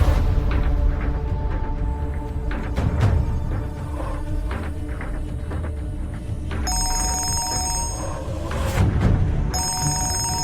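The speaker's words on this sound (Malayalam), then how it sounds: "ശ്യാമയുടെ ഫോൺ വരുമ്പോ പേടിയാ." A telephone rings indoors in a home, sounding as two bursts of bright electronic ringing over a busy background of music and soft thuds, with no talking.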